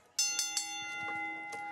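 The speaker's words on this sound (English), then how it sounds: "Johnny Romano, ring the bell there, Zach." A wrestling ring bell at a CWF Voltage event in Pensacola, one sharp metallic strike followed by a couple of quick repeat hits ringing out with a lingering tone, moderately faint with crowd noise underneath.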